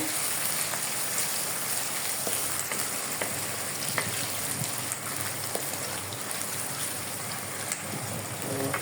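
Onions frying in a pan for a hilsa fish curry, an even, dense sizzle like steady rain, close and continuous with faint crackles and no voices.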